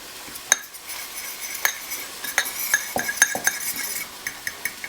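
A spice blend being stirred together in a bowl for homemade chili, giving a run of quick scraping clinks of a utensil against the dish, close and fairly quiet, with no talking.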